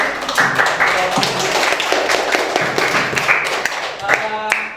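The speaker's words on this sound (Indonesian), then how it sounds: "boleh kita berikan tepuk tangan untuk" Scattered hand clapping from a small group, uneven and close, mixed with voices talking over it.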